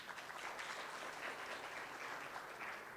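An audience at a business awards panel gives a round of applause, a steady, even wash of many hands clapping at a distance, continuous throughout with no talk over it.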